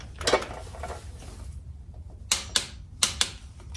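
Mechanical clicks from a torque wrench tightening a foot peg bolt to 15 foot-pounds on a salvage-rebuilt Kawasaki Ninja ZX6R: a faint ratcheting patter first, then four sharp, close clicks in two quick pairs.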